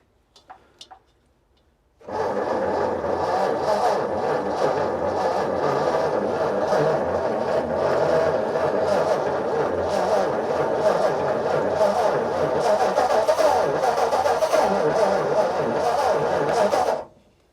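A vintage Ford V8 barn find, sitting unused for 30 years, starts with its choke on and keeps running, a loud, steady, rough idle lasting about fifteen seconds, preceded by a few faint clicks.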